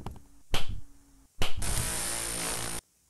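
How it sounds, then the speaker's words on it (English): Baldi in Baldi's Basics video game claps in two quick slaps, then a sustained buzzing tone follows, close and clear with no talk. "I heard him clapping faster."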